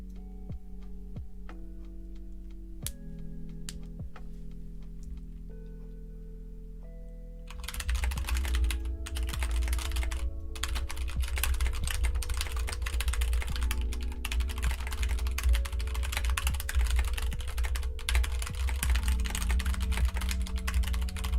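Computer keyboard typing during a Nitro Type race: sparse, quiet keystrokes over a low hum at first, then a sudden dense, rapid burst of clattering keys that continues steadily to the end.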